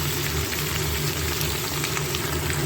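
Spinach frying in a pan, a steady dense hiss and bubbling with a low hum underneath, unbroken for a few seconds.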